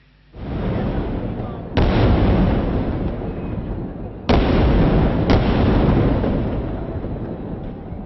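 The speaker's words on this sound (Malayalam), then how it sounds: "രാത്രി മാനത്ത് പെയ്തിറങ്ങിയത് ദൃശ്യ ശ്രാവ്യചാരുതയുടെ പകർന്നാട്ടം നടത്തിയ വെടിക്കെട്ട്" Thrissur Pooram night fireworks display: sustained roaring crackle of massed explosions, with sharp new booming bursts striking in sequence and rumbling on loudly without pause.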